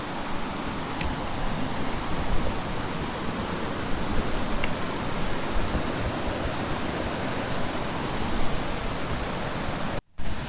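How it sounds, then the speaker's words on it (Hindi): Roaring waterfall in the Baha Lake valley near Shandur, a steady dense wash of falling water filling the scene at close range and unbroken, with only a momentary dropout near the end. "कितना ज़्यादा पानी का गिरने का शोर है"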